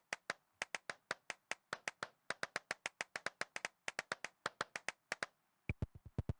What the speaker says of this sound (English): Clap on the manhole cover for now.